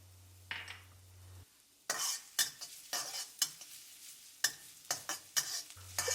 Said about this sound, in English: Add about a tablespoon of oil and then start stir frying the shallots.